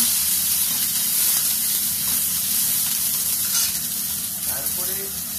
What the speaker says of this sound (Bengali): ক্যাপসিকামগুলো দেওয়া হলো, একটু হালকা করে নেড়ে দেবেন।